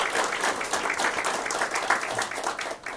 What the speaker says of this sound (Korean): 양청미, 김혜민, 오은비, 김경주, 이송은, 백현영 자매님들께 박수 드리겠습니다.